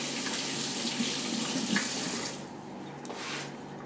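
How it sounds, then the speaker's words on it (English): Kitchen tap water rushes steadily while hands are rinsed during muffin baking, loud and continuous before easing to a softer, thinner flow partway through. "Rinse off the hands."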